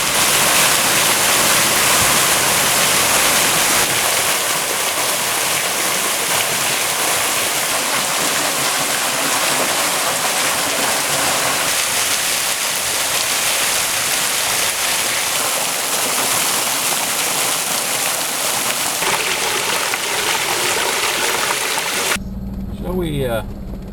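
A loud, steady roar of a waterfall in Arkansas fills the scene, close and unbroken, cutting off abruptly at the end.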